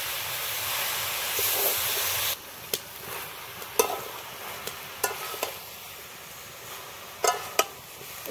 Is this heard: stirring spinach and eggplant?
yes